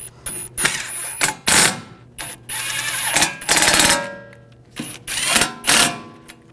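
A ratchet or wrench runs bolts down on a 2006-2009 Audi S4 front wheel hub, heard as close, loud bursts of rapid mechanical clicking and whirring, separated by brief pauses between bolts.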